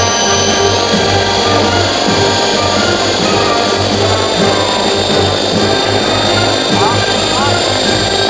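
Rocket-powered RC helicopter running a steady hover test, a constant loud droning whine with tonal hum that holds level throughout, close to the listener.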